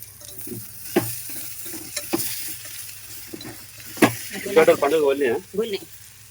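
Bitter gourd frying with onions in a pan, a soft sizzle with intermittent stirring taps, then a person talks over the cooking toward the end.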